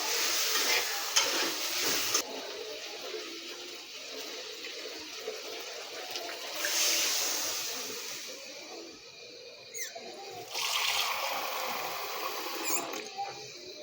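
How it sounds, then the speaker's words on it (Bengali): Boiled taro root is stirred into spices in a frying pan, giving a quiet sizzle and bursts of wet scraping and shuffling from the spatula, close and fairly soft, with brief pauses between rounds of stirring. "কচুমুখিটাকে সুন্দরভাবে মশলার সঙ্গে মিক্স করে ফেলবো"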